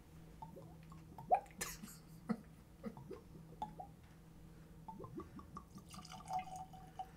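Liquid glugging and dripping from a bottle of Aerstone Land Cask 10-year-old single malt Scotch whisky as it is poured, a string of faint, irregular gurgles and drips with a slightly tinny edge, close to the microphone.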